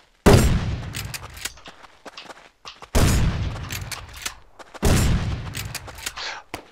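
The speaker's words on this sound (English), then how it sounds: "Oh god, I'm being shot at" Gunfire in the survival game Rust comes in three sharp, loud bursts of rapid shots, each trailing off into scattered single cracks and echoing reports, with no voices over it.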